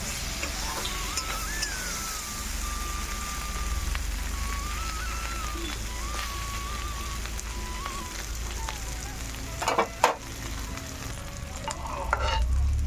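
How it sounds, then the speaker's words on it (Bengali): Mango pieces fry in a pan alongside fish, giving a steady close sizzle and crackle with occasional stirring clatter and no talking. "মাছের মাটির সাথে আমটাও ভেজে নিচ্ছি।"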